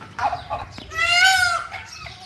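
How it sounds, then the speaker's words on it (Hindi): A loud, drawn-out peacock call with a harsh, nasal tone rises in the middle, preceded by shorter squawks, close by in a home garden with faint background noise. "ये मस्ती में आया हुआ है आजकल मोर, इसलिए इतना आवाज़ें निकालता है।"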